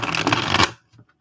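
A deck of tarot cards being riffle-shuffled close up, a dense rapid burst of flicking paper for about three quarters of a second, then a couple of faint soft taps as the cards settle.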